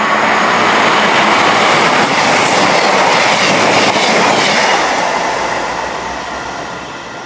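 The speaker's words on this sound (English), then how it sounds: "train's coming." A train pulls into Ermston Station, loud and close, its wheels clattering and rumbling over the rails with a brief high squeal, then the noise slowly fades as it slows to a stop.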